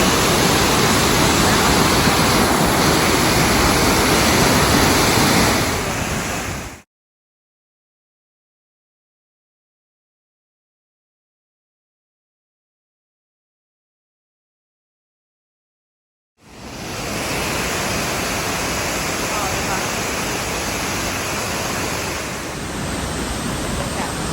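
Waterfall in Taiwan roars as loud broadband rushing water, cut by a long stretch of silence before the roar returns.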